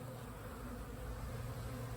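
Honeybees swarm around a hive in a dense, steady buzzing drone that stays close and loud throughout, with no voices over it.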